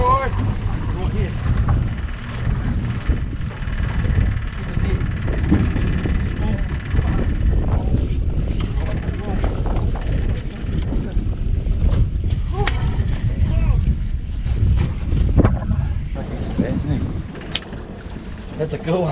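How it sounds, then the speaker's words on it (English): Strong wind, around 13 knots, buffets a small boat out on open water. The gusty roar is loud and continuous, with occasional knocks and splashes and some voices mixed into the rush. "That wind is already now doing about 13 knots."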